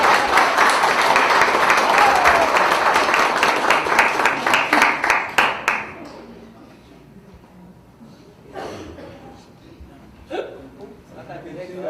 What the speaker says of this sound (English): Give Emerald a round of applause.